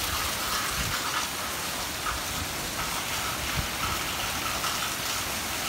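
Steady heavy rain falls in a backyard, a dense, even hiss of drops on surfaces lasting throughout with no pauses.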